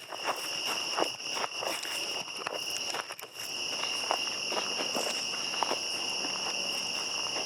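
Footsteps crunch through the woods at night in a steady walking rhythm of dry leaves and twigs, moderately close, over a constant high chirping of crickets and insects.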